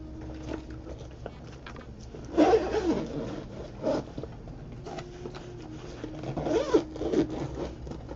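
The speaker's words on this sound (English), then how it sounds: "you can zip this up too" A zipper on a pocket of a Ju-Ju-Be backpack from a World of Warcraft collaboration is pulled in several short, raspy bursts, close and fairly quiet, with pauses between strokes.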